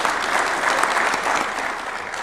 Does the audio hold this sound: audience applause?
yes